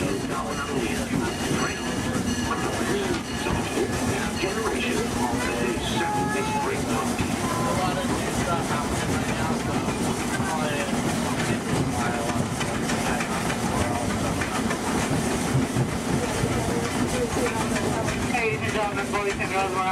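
A Walt Disney World railroad train rolls along toward Toontown Depot with a steady rumble and faint clickety-clack of the cars. Talk and background chatter run under the constant ride noise the whole time.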